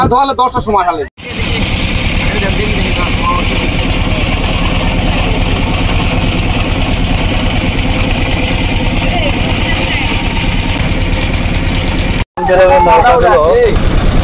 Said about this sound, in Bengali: কয়েকটি নৌকা যাচ্ছে, নৌকার গতিগুলো মোটামুটি অনেক বেশি।